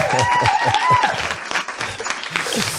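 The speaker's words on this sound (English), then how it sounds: "let's put in that cheer" An audience at a meetup held after a Bitcoin conference cheers and applauds, dense clapping mixed with shouting voices, loud and close throughout the short burst.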